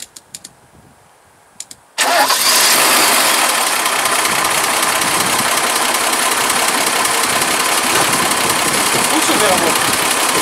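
A Mercedes 126 car engine cranks and catches, then settles into a loud, steady idle that runs on for about eight seconds, close to the listener. A few faint clicks come before the start.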